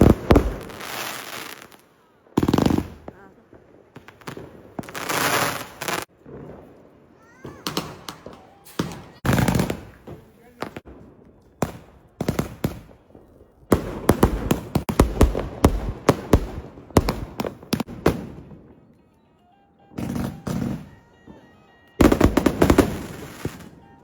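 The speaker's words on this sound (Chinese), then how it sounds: "小姑，来看烟花。" Lantern Festival fireworks go off outdoors in loud, irregular bursts of bangs and crackling volleys, with short pauses between salvos over a long stretch.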